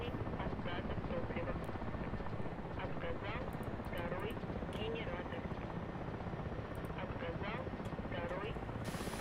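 A search and rescue helicopter in the DCS flight simulator drones with a continuous rotor thrum and engine whine throughout, while a voice talks over it.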